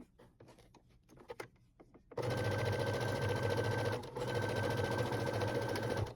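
A sewing machine runs a straight seam on plush fabric for a toy's paws, a steady loud mechanical whir with a brief pause midway, after scattered taps and fabric handling.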